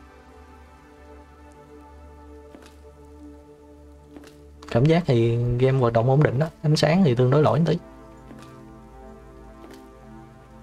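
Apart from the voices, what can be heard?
rain outside in video game Access Denied: Escape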